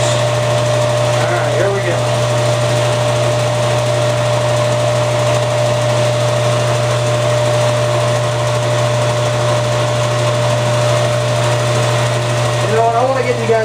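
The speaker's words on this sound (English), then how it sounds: "Bandsaw spinning." A bandsaw runs continuously in a workshop where RC model airliner parts are being cut, giving a steady, loud mechanical hum with a constant motor tone that holds throughout without pause.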